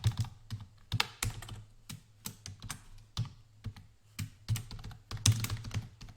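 Rapid typing on a computer keyboard, close and crisp, with irregular bursts of key clicks and brief pauses between them over a low steady hum.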